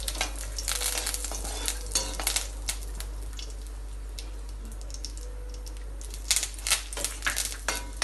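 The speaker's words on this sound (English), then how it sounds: "Stir it." Red chili and curry leaves stirred in a frying pan for an egg ball dish, steady scraping and tapping of the spatula over a faint sizzle and a low constant hum, close by with no voices.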